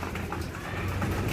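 Pigeons coo softly while feeding, a low steady murmur of cooing set against constant background noise, with no clear speech.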